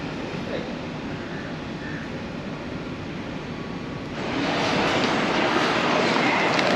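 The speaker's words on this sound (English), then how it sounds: "I am at Butterworth railway station" Station ambience at Butterworth railway station in Malaysia, a steady broadband rail and platform hiss that swells noticeably louder partway through, with no voices.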